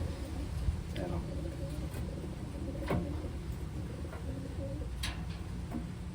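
Pigeons cooing softly at a bird loft with batik blue bar birds, faint repeated coos under a constant background hum while a person talks nearby.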